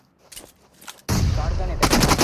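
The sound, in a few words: shotgun gunfire in BGMI video game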